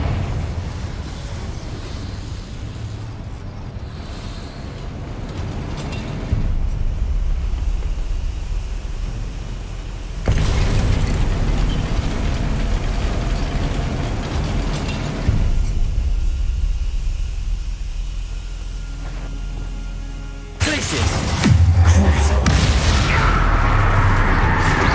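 A Confringo blasting spell explosion in the video game Hogwarts Legacy, heard as loud booming blasts with rumbling roars that surge in separate waves, the last burst the sharpest, and no voices over it.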